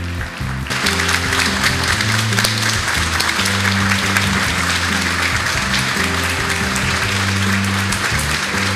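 Sustained applause from a seated audience at a ceremony honoring teachers, steady and fairly loud throughout, with a low background hum and tonal music-like drones underneath.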